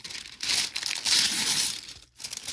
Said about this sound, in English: Rip off a couple more pieces here.